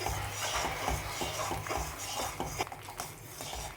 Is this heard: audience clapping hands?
no